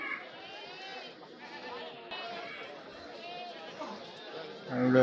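Goats bleat repeatedly at a busy livestock market in Kilimanoor, Kerala, the calls layered over steady crowd chatter and people talking nearby.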